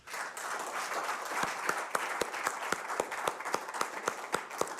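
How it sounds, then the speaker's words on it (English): Audience applause at a live event, a steady wash of many hands clapping with distinct sharp individual claps standing out near the microphone in an uneven rhythm. "Let's give another applause."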